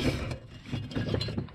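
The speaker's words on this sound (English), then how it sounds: "we're just going to get our screwdriver in over that clamp. Try and pry it off" Screwdriver prying a clamp off a brake bracket on a 40 series vehicle during a rear brake conversion, giving close scraping and ratcheting metallic clicks, steady and fairly loud throughout, with no speech.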